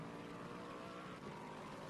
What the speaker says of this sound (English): you can hear the helicopter in the background